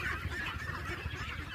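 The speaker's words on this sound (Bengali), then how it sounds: "দেখতে পাচ্ছেন হাঁসগুলা খাবারের জন্য আমার কিছু আসতেছে।" Ducks on a farm honk and call continuously, loud and close, a dense flock clamoring as they come in for food.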